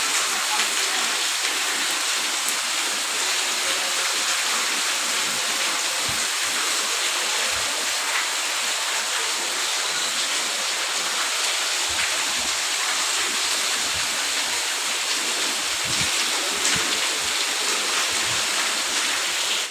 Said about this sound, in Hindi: आप मन देखिए संगवारी हो बाहर कितना पानी गिरते हैं।